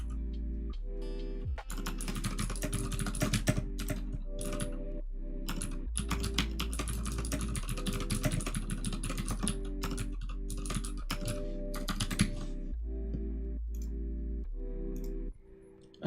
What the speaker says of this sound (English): Are you using Cherry MX Blue switches on your keyboard?